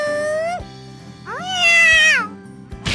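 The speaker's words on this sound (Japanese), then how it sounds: "猫ちゃん" A cat meows twice in a Japanese visual novel game, a short falling mew and then a longer rising-and-falling cry, loud and close over soft background music.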